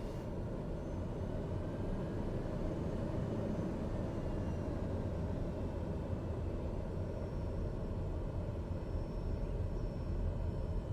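A TBM turboprop taxis on grass in Microsoft Flight Simulator, its engine a steady, loud, even drone with a faint high whine, continuous throughout and without talk.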